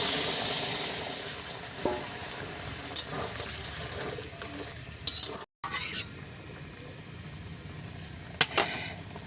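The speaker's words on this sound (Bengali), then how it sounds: "এখন জল দিয়ে দেব। জলটা আমি গরম জল ব্যবহার করছি।" Hot water poured into papaya curry frying in a pan, giving a steady close sizzle and hiss with a few sharp clinks and brief bursts, plus one short dropout partway through.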